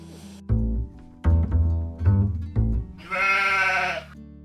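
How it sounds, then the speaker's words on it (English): Beulah sheep bleat several times in a row at a nature reserve, the calls loud and close with short pauses between them, ending on one longer, wavering bleat. "hopefully you'll be able to see the real live Beulah sheep that are on the side"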